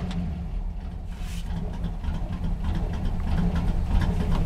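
A 1960 Mercury half-ton truck engine idles with a close, low, steady rumble and a faint rhythmic chug, growing slightly louder toward the end, with no talking.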